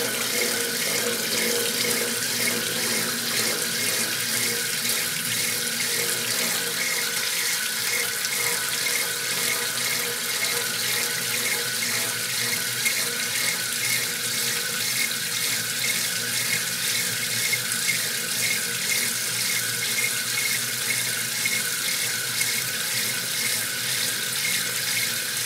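Steady tap water running into a sink throughout, a constant broad hiss and splash at close range with no talk over it.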